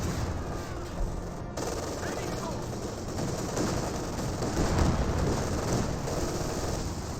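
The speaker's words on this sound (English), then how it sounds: "Now got the officer artillery raining on in." Officer artillery barrage in Company of Heroes 2: a dense, continuous roar of shell blasts and crackling gunfire, rumbling steadily and swelling slightly toward the middle, with no clear gaps.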